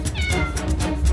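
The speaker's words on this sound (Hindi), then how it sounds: "उस मनहूस बिल्ली को हटाओ बीच में से" A cat meows repeatedly in quick succession, close and loud, amid a street scene with a car in a Hindi devotional television drama, with no talking over it.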